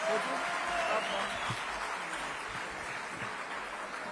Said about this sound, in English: They are not going to get off the stage up until you give them a rousing round of applause.